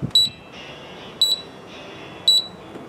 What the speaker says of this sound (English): I guess it's just the one short beep